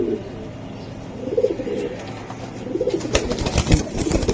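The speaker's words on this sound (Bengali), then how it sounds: "ছটপটা কবুতর" Pigeons coo in repeated soft, throaty phrases close by, with a few fainter rustles and flutters toward the end and no speech.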